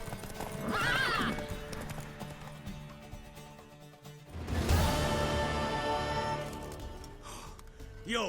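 A horse in The Witcher 3: Wild Hunt whinnies loudly, then hooves clip-clop closely with a second neigh and snorting over game ambience.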